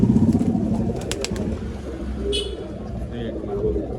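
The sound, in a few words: pigeons for sale at a pigeon seller in Bangalore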